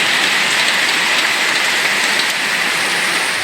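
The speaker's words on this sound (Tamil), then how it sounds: "திருப்பத்தூர் சுற்றுவட்டார பகுதிகளில் சூறைக்காற்றுடன் கனமழை பெய்ததால் சாலைகளில் மழைநீர் பெருக்கெடுத்து ஓடியது." Heavy rain pours down with strong gusting wind across the Tirupattur area, a dense and loud hiss that holds steady throughout. No voices can be heard.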